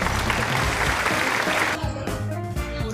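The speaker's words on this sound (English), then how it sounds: "Let's give a round of applause for Rosel de la Torre." An audience applauds a poet who won the National Poetry Competition, a dense, steady wash of clapping that thins slightly after a second or so but keeps going.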